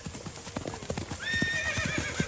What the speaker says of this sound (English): It sounded like a whole herd of horses running past.